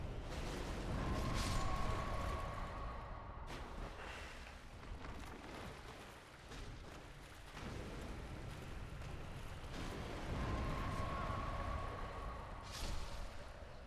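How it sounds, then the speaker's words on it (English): A deep, rumbling explosion roars in Dark Souls 1 and keeps going for several seconds, then eases and swells again as a loud, steady blast of sound, with no voices. "that's a pretty convenient explosion for us"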